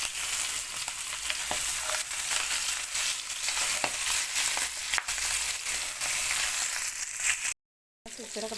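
Chicken pieces fry in hot oil in a pan, with a steady close sizzle and crackle throughout, broken by faint scraping stirs and a brief dropout near the end.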